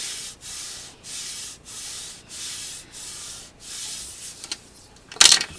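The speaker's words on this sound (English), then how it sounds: "So you just really want to rub that down, make sure it is sticking very well." Paper is rubbed down firmly onto a journal cover in about seven even back-and-forth strokes, close and scratchy, ending with a brief sharper scrape.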